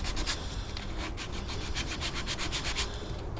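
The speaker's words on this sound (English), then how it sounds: "I'm just finishing off the front panel with just this little wooden block for sanding." Steady rhythmic rubbing of a small wooden sanding block across the front panel of a 1945 Columbus Model 90 wooden radio cabinet, brisk back-and-forth strokes, close and continuous with no voices.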